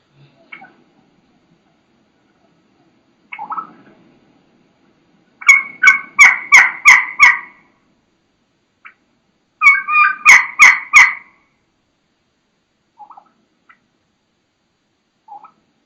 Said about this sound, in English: just listen to this hen get after it here